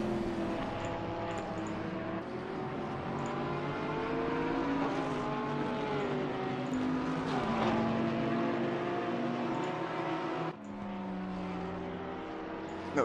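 Several GT3 race cars battle in a tight pack in the sim racing game Assetto Corsa Competizione, engines droning and shifting pitch continuously as they jostle for position, loud and sustained with a brief dip near the end.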